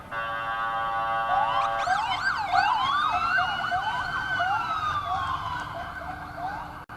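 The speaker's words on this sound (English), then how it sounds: "you can hear the sirens" Several police motorcycle sirens at the Tournament of Roses Parade overlap, rising and falling in quick yelping sweeps, loud and close, passing steadily with no voices.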